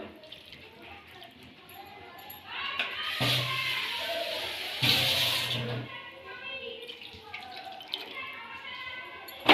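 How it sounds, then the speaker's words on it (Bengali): Water is poured into a cooking pot for a raw tamarind sour dish, with two short splashing gushes in the middle against a quiet kitchen background. "আমি এক পেটি জল দিয়ে দিলাম।"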